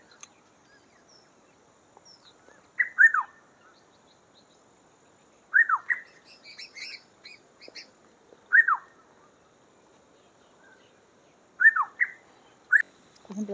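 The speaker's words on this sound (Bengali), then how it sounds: "পাখিটা তো খুঁজতে পাচ্ছি না, কিন্তু ডাকটা শোনানোর চেষ্টা করছি।" A single bird in the Darjeeling hills near the Makaibari tea estate repeats a short, clear whistled call about five times at irregular intervals, heard at moderate distance in a quiet setting.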